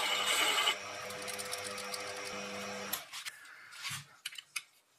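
A Proxxon PD 250/e lathe tool cuts a witness mark into a 4-jaw chuck backplate: a steady machining whir with a tonal hum runs for about three seconds, then stops, leaving a few small clicks and taps.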